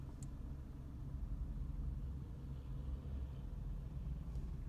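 A manual car's low, steady engine rumble as the clutch engages, holding at an even idle-like pitch throughout, close by and fairly quiet, with no voices.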